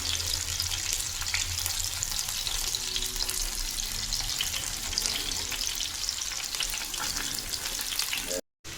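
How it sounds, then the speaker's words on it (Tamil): Sardines sizzle and crackle steadily in hot oil, a constant close frying hiss with faint stirring, then a brief cutoff near the end. "மத்தி மீன் பொரிக்கலாம்"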